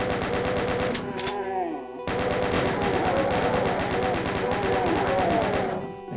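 Chaingunner enemies in Doom 2 fire rapid, continuous bursts of machine-gun shots that chatter in a steady, fast rhythm, briefly breaking off before resuming.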